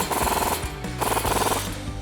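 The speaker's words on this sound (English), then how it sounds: "So I'm gonna throw that on my impact gun," An impact gun tightens a nut on a Toyota Tacoma front CV axle, two loud rattling bursts of rapid hammering separated by a short break.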